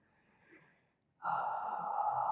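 A long, steady breath is exhaled during a side stretch, following a soft quieter breath and a brief pause. The exhale is close and even and lasts over a second.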